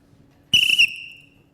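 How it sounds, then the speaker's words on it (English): A single short, sharp, very high-pitched whistle blown once after quiet, loud and piercing for about a third of a second, then ringing out and fading over a few tenths of a second in an otherwise still room. "My whistle."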